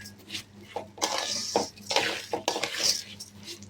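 Rice being stirred in a pot while making basanti pulao, with close scraping and clinking of a utensil against metal in several bursts, and a voice faintly in the background.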